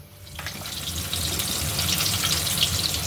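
Koi fish shallow-frying in a small amount of hot oil, a steady close sizzle and crackle that swells slightly after the first half second and then holds constant, with no talking.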